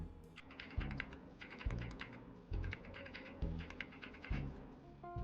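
Computer keyboard typing as a nonce generator value is entered, with quick bursts of clicky keystrokes in uneven runs, close and clear, alone with no voices.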